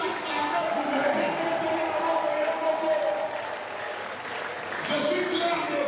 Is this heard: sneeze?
no